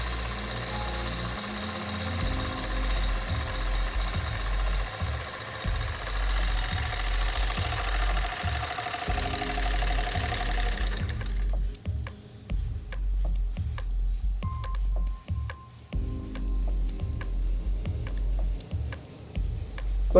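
A model steam engine running with its flywheel turning, a steady rapid knocking rhythm under a broad hiss that cuts out partway, after which the beat goes on more sparsely with gaps and a faint tone.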